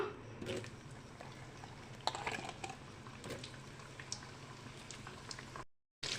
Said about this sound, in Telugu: ఇప్పుడు కాకరకాయ ముక్కలు నూనెలో వేసుకుందాం